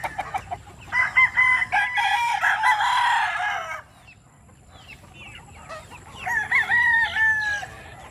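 A White Kelso gamecock rooster crows loudly and close by, a drawn-out call lasting a few seconds. After a short lull, a second, shorter crow follows, with faint clucking between the calls.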